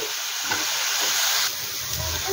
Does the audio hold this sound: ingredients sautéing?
yes